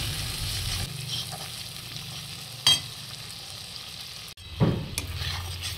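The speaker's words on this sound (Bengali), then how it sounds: "মশলাকে ভালোভাবে কষাবো।" A spice paste of chili powder, turmeric and other ground spices fries in a pan for a Bengali fish curry with potatoes, hissing steadily with a couple of sharp stirring scrapes and a short burst of louder sizzle.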